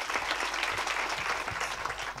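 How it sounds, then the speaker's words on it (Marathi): Loud, steady clapping from a kirtan audience filling a pavilion, dense and continuous throughout with no pause. "टाळी वाजा एकदा जोरात."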